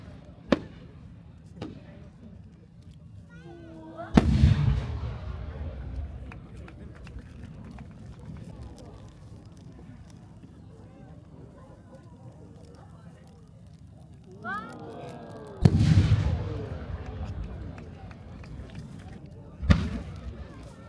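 Warimono aerial shell fireworks at a Japanese summer display in Nagano go off as a few deep booms spaced across the stretch, with a distant crowd murmur and an announcer's voice in between.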